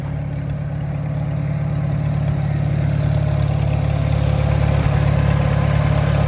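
An International Harvester Super W6 tractor engine idles steadily and close by, a deep, even low-pitched rumble with a constant throb that holds level throughout with no other sounds.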